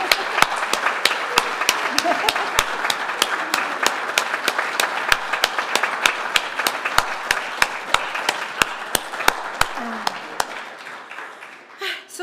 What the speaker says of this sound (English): I think we just need to give them all a big cheer